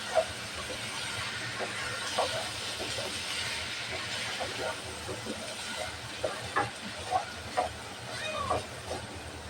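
Rice for khichuri sizzles with a soft, steady hiss as it fries in a pan, broken by scattered light scraping clicks from stirring.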